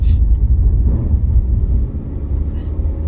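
An Alfa Romeo Giulia diesel accelerating at partial throttle, heard as a low, steady engine and road rumble from inside the car, fairly loud and continuous over a few seconds.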